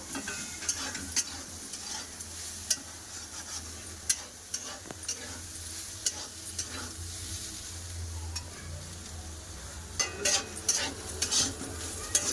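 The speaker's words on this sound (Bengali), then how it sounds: "পেঁয়াজটা একবার ভালো করে ভেজে নেব" Onions sizzle steadily in hot oil while a utensil stirs and taps against the pan now and then, close up with no talking.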